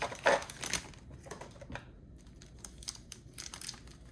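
Plastic wrapping is peeled off a Figma action figure during an unboxing, giving close crinkling and tearing rustles in bursts, loudest at first and then lighter, intermittent crackles.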